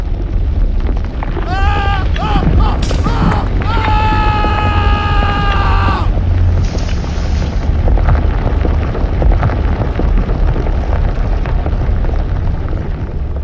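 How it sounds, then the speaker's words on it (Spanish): An entire quarry collapses in Antarctica with a loud, continuous deep rumble throughout. A strained, choked cry rises over the roar partway through, then the rumble rolls on alone. "vi que toda la cantera se estaba derrumbando"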